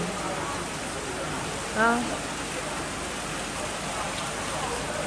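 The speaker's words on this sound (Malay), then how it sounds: "Yang hujan masih tak berhenti guys." Steady rain falls in Bintan as a soft continuous hiss, and a brief spoken exclamation cuts in partway through.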